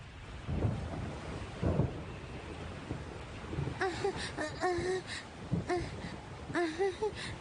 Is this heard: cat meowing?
no